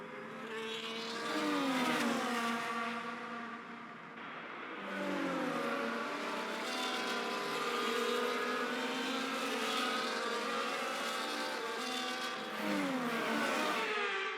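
F1 cars driving a sprint formation lap in the F1 24 video game, several engines droning and shifting pitch together at a steady, loud volume.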